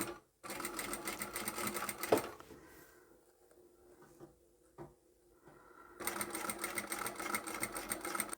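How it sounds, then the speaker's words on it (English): Sewing machine backstitches and then sews a zipper bag seam through layered fabric, with a loud steady whirring run, a quieter stretch with a few clunks, then the motor resumes just as loud. "I'll backstitch here just to secure those layers, and then continue on all the way to the end."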